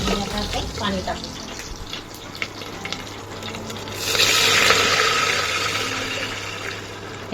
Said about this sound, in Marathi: आणि आता आपण पाणी टाकू.